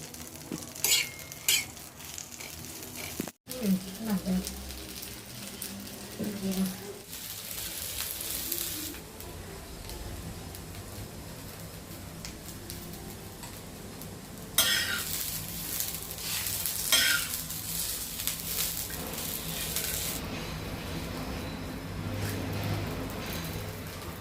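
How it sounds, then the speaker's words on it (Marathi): Oil, salt, garlic and cumin sauté on a griddle pan for a green chilli kharda, a soft ongoing sizzle with scrapes and clinks of a spatula against the metal that grow louder partway through. "आता याच तव्यावर आपल्याला तेल, मीठ, लसूण आणि जिरे टाकून परतायचं आहे."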